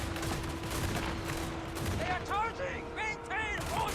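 Nangao Riflemen in Total War: Warhammer 3 firing rolling volleys, a dense crackle of massed rifle shots layered with battle noise and a narrator talking over it.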